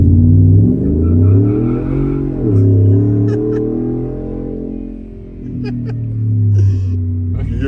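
Ford F-150 fitted with a Flashark cat-back exhaust revving repeatedly, a deep rumbling engine note that swells and falls through several loud throttle blips, up close, with brief voices in between.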